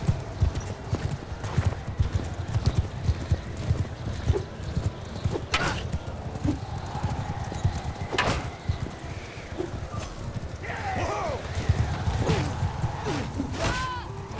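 Horse hooves clip-clop steadily through a medieval battle game with Harald Hardrada and cavalry, set against constant combat noise, with a whinny and scattered sharp hits.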